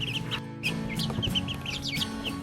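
Five young chicks from a backyard flock cluck and peep in a quick, busy stream close by, their soft calls overlapping without pause and with no talking.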